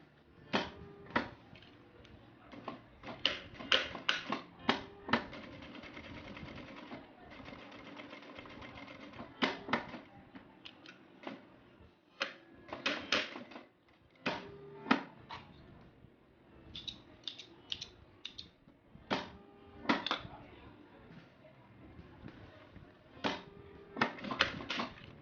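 Sewing machine stitching the top of a fabric wallet, heard as irregular bursts of quick ticking stitches with pauses, clicks and handling noises between runs, fairly quiet and close.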